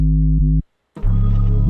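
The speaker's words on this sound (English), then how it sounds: "So without the effects, the 808 would sound like this." A dry 808 bass from an FL Studio UK drill beat, with no effects applied, plays deep sustained booming notes. One pitch slide is followed by a short gap, then another heavy, loud note with a slide.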